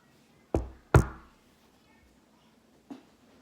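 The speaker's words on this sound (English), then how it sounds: "the knock at the door" Knocks on a door: two firm, close knocks in quick succession, then after a pause a single softer knock, each dying away quickly in an otherwise quiet room.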